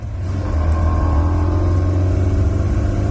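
Car engine held under load during a full power tuning run, a steady loud low drone building slightly after the first half-second and staying constant, close with no talk.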